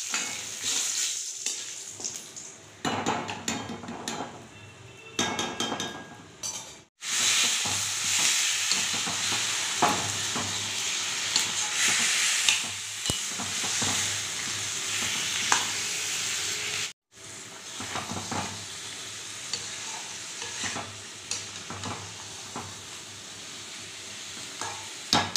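Yogurt chicken (doi chicken), marinated in raw mustard oil and spices, cooks in a pan with a steady close sizzle, broken by stirring scrapes and two brief pauses; no voices.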